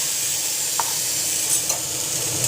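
Black cumin, dried chilli and sugar fry in hot oil in a pan for vegetarian aloo dum, a loud continuous sizzle with a few small pops and stirring scrapes, no voices.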